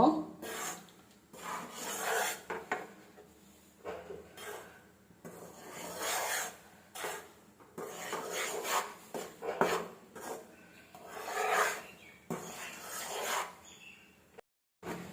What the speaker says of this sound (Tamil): அப்படியே அடுப்பை மீடியமாக வச்சுக்கிட்டு மாவு தீஞ்சிடாமல் நல்லா வறுத்து